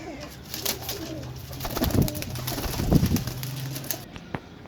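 Young pigeons coo in a low, throaty, rumbling series at a pigeon seller's in Sarai Alamgir, Gujrat, with soft wing flutters and rustling mixed in, close and continuous.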